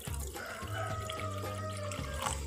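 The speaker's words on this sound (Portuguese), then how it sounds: "Agora eu vou adicionar um pouquinho de água aqui junto com o vinagre." A little water is poured over washed beans mixed with vinegar, a faint, soft trickle against a low background hum.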